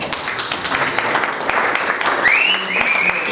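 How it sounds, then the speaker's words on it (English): Applause from an audience at an annual dinner greets a man called up to the front, a dense patter of clapping that holds steady and fairly close, with a voice talking over it toward the end. "give a round of applause for Ryan"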